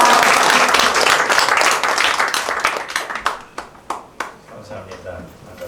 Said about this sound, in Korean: 할렐루야로 하나님 앞에 영광의 박수 올려드리고 감사의 박수를 목사님께 올려드리겠습니다